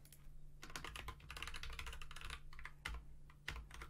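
Computer keyboard typing out C++ code, a fast continuous run of close keystrokes with a few sharper isolated key presses toward the end.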